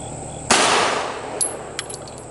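A single sharp report from an ATI M1911 .45 pistol loaded with aluminum-case rounds, followed by a few faint metallic clinks as the shot decays.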